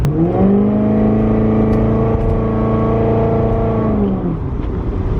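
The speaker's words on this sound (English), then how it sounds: "as you can see, no problem accelerating in the traffic, even though it's wet." A Corvette accelerates through wet traffic, with a loud, steady engine drone that rises in pitch and then eases off, heard close and continuous with no talking.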